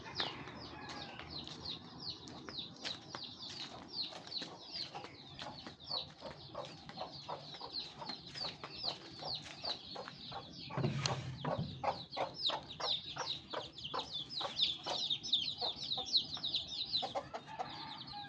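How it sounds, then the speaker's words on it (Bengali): A hen with her chicks clucking steadily, with a dense run of short, rapid peeps and clucks from several birds close by for the whole stretch, rising slightly in the second half. "আমার একটা বাচ্চালা মুরগি আছে।"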